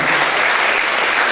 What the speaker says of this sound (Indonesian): Boleh kita beri tepuk tangan applause